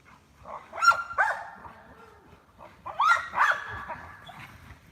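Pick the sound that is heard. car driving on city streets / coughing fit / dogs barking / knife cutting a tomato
dogs barking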